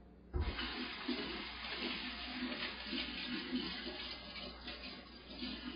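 Water rushes steadily into a kitchen sink drain, rinsing out a container used for mixing banana bread batter, a continuous broadband splash that stays loud and even throughout.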